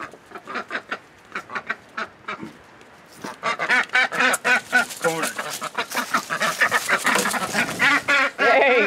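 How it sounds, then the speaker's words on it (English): A duck quacks repeatedly at close range, with sparse calls at first, then a rapid, loud burst of quacking and honking. "All right, here's you a duck."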